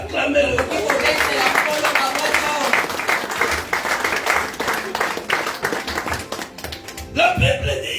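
Congregation at a French-speaking church service applauding and cheering, a dense sustained wash of clapping lasting several seconds with a brief dip near the end, voices mixed in.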